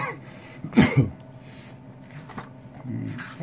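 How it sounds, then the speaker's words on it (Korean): A single quick cough bursts out near the start, followed by a few softer throat noises and quiet shuffling in an otherwise hushed room. "기침이 자꾸 나네."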